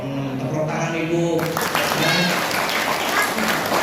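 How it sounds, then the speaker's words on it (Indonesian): Audience clapping during a religious sermon at a mosque anniversary gathering; a voice comes first, then a burst of steady applause rises and continues to the end. "Wah, tepuk tangan ibu."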